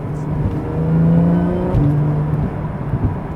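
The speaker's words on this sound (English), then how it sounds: "If you can hear how much faster it was shifting with Sport Plus." A 2009 Porsche Carrera 4S (997.2) engine revs hard and close, its pitch climbing, then breaks briefly for a quick PDK dual-clutch gear change in Sport Plus mode before pulling on with a steady drone.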